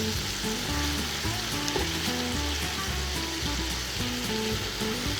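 Bacon fries in its own grease in a pan, a steady close sizzle with crackling pops that runs throughout, with no talk.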